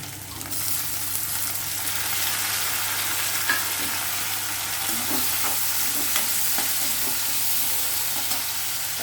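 Tomatoes and curry leaves frying with onions in a pan, an even, continuous sizzle with occasional stirring scrapes and clicks, close and steady with no one talking.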